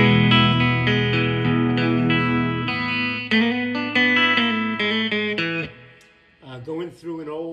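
An old Stratocaster played on its middle pickup through an original 1969/70 Dallas Arbiter Fuzz Face into an old Deluxe Reverb amp gives sustained fuzzy chords and picked notes. The phrases ring on, then trail off into a looser bent line near the end.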